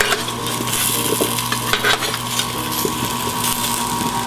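Roasting squash pieces turned in a hot pan, the oven run at 425 to 450 degrees, giving a steady close sizzle with scattered scraping and clinking of a utensil against the pan.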